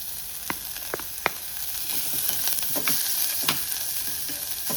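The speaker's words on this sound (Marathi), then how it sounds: "कांदो मातसो सुबेजूत घातला आनी हरवी मिरसांग 2 घातल्या." Chopped onion and two green chillies frying in oil in a pan, a constant bright sizzle with several sharp spatula taps and scrapes near the mic.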